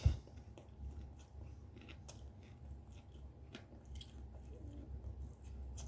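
Close, quiet wet chewing of kimbap during an eating broadcast, soft squishy bites and mastication sounds over a low room hum, with no talk.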